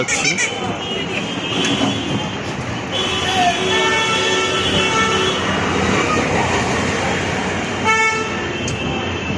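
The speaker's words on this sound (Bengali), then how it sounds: "আমরা আছি এখন কলকাতা শহরের নিউ মার্কেটের এরিয়াতে কলকাতা নিউ মার্কেট এই রাস্তা ধরে আস্তে আস্তে আমরা হেঁটে" Busy street traffic in Kolkata's New Market area, with a continuous rumble of vehicles and repeated horn blasts both near and far, while someone talks over it.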